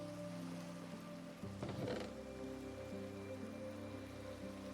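Rain falls in the Minecraft video game as a soft, continuous hiss with a brief louder patter partway through, heard alone and fairly quiet.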